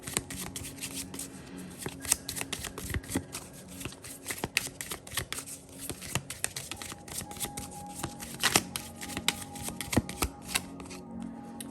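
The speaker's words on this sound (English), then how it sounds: "let me pull a couple of cards from the Keeper deck." A Keeper oracle deck is shuffled and cards are pulled, a close, crisp run of irregular flicking and riffling card sounds with occasional sharper slaps, heard alone without talk.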